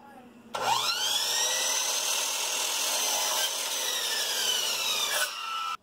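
Hand saw cutting wood trim for a dining room in a house, a steady near rasping stroke running about five seconds with faint rhythmic pulses, no voices over it.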